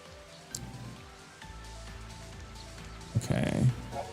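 Steady rain from a bad-weather device in a video game, a soft continuous patter beneath background game sounds and a brief louder burst near the end.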